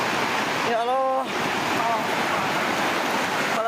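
Flash floodwater rushes in a steady, loud roar through Cisurupan, Garut, West Java, with no break, and a short wailing voice rises briefly above the torrent.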